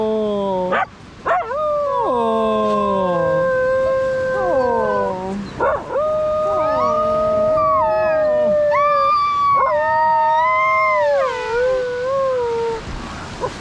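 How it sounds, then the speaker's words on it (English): Two dogs on a beach howl and yip together in long, wavering, overlapping calls, loud and close, with short whimpers between the howls. "I've just found 2 doggies."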